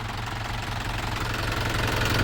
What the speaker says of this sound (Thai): มาดูเครื่องกันครับ